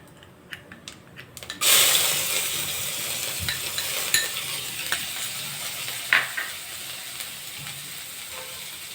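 Cumin and ginger-chilli paste sizzle loudly in a pan after a few sharp clicks, then spoon stirring scrapes and taps through the steady frying hiss.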